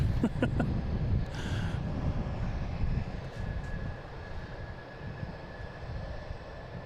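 An airliner landing at Boston Logan International Airport, a broad low roar of engines that is strongest at first and then eases into a steadier, fainter rumble, with a few sharp clicks near the start and no clear talk.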